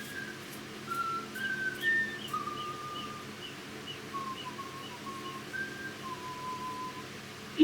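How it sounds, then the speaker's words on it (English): Someone whistles the Mr. Men cartoon theme tune, a thin wavering melody of short rising and falling notes that comes and goes faintly over a steady low background hum. "Whistling the Mr. Man theme."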